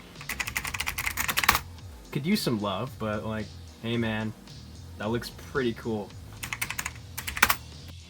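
Rapid clicky typing on a mechanical-style computer keyboard during a Windows 95 PC build, loud bursts at the start and end with someone talking in between.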